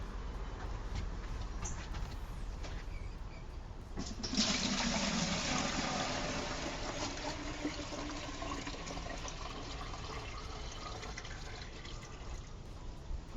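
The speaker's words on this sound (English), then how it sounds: "what we do next is we pour in the water. Can you do? Want this one? Yeah. So this is water from our rainwater barrel." Rainwater from a rain barrel is poured into a homemade water filter, a soft trickle that swells into a fuller, steady gushing pour before tapering off, close and without talk.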